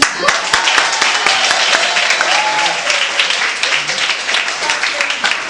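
A crowd applauds steadily throughout, dense clapping at full volume with a few voices cheering under it.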